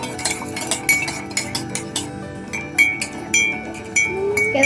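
A utensil whisks cake batter in a mug, clinking against the sides in quick, irregular taps, fairly close and clear, with a few brighter ringing strikes near the end.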